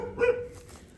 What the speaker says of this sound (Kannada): ಈ ನಾಯಿ ಯಾಕೋ ತುಂಬ ಬಗಳ್ತಿದ್ದಾರೆ